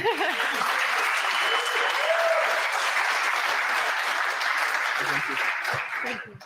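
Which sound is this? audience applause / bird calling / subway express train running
audience applause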